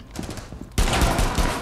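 Rapid gunfire erupts in the video game Rainbow Six Siege, with a quieter burst of shots followed by a sudden, louder sustained volley of automatic fire up close.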